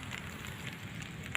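Heavy rain patters steadily over a backyard vegetable garden with cucumber and bitter gourd vines, a faint, even hiss with a soft crackle of drops and one sharper tick near the end.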